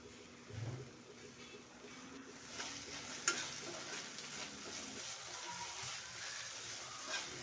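Baby corn manchurian frying and being stirred in a pan with chilli and tomato sauce, a steady soft sizzle with scraping stir sounds and a sharp clink, close and continuous.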